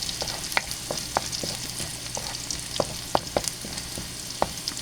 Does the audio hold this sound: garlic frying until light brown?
yes